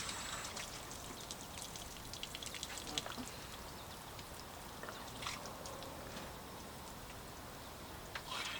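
Coolant bubbling out of the open radiator of a 1969 Oldsmobile Vista Cruiser, a faint steady gurgling and trickling with small pops, heard alone under a low engine rumble.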